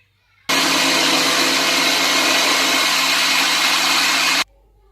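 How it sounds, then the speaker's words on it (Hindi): An electric grinder grinds chillies and salt with a loud, steady whirring roar that starts abruptly, runs about four seconds at constant pitch, then cuts off sharply. "अभी इसको हम ग्राइंड कर लेंगे।"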